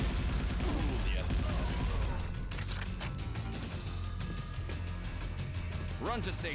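Rapid gunfire in the 1998 shooter game SiN Gold, dense continuous bursts of shots and impacts layered over game sound effects, loud and unbroken throughout.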